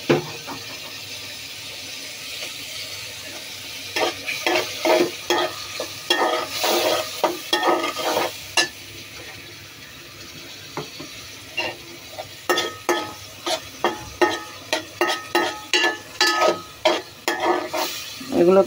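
Prawns stir-fried in a thick masala in a pan: a constant sizzling hiss under a fast run of rhythmic spatula scrapes and stirring strokes, close and fairly loud, no talk.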